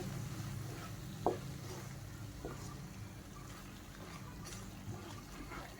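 Red chilli powder and whole spices fry for misal with a faint, steady sizzle and two or three soft scrapes of a spoon in the pan.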